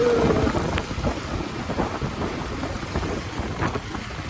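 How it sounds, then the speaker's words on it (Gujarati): Heavy rain pours down loudly and steadily while thunder rumbles low beneath it, with wind mixed in and no voices. "ભાઈ લોક વરસાદ વધી ગયો છે થોડો।"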